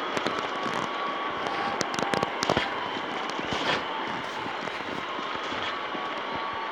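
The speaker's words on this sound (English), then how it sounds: "Hey, infinite pistol shots." Pistol shots ring out in a video game heist match as a string of sharp, cracking bangs. They come in quick bursts in the first half and thin out later over a steady background hum.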